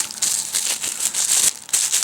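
Plastic bag rings for plarn are opened up and handled, giving loud, close, continuous crinkling with bursts of rustle and no speech.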